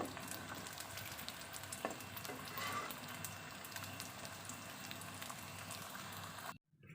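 Macaroni frying in hot oil until lightly golden and crisp, giving a steady, close crackling sizzle that runs evenly throughout before cutting off abruptly near the end.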